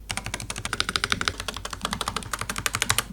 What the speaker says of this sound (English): Stabilizers on these 3 keyboards are also pretty good for stock, barely any annoying rattles.